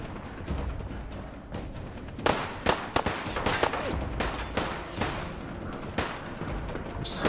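Dense battlefield gunfire from the Sim Settlements 2 game, with repeated sharp bursts and shots in rapid succession, loud and continuous, some close and some farther off, with no talk over it.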